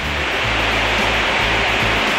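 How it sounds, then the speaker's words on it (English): Chapel Falls, a waterfall at Pictured Rocks National Park, roars as a steady, loud, unbroken rush of falling water, heard close up with no voices over it. "we are going to check out Chapel Falls, which is a dramatic and picturesque waterfall"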